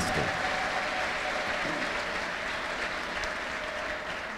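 A church congregation applauding and ululating at a healing testimony, a dense, continuous wash of clapping that holds steady from start to finish with a crowd voice faintly mixed in.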